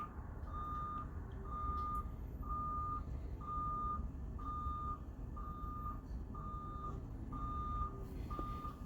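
A school bus leaving a tournament location backs up, its reversing alarm sounding nine steady, evenly spaced beeps over a constant low engine rumble, with no talk.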